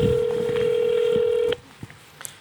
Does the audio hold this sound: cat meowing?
no